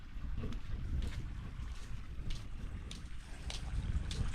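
A boat engine runs steadily after starting, a continuous low rumble joined by wind and water noise, with no voices heard.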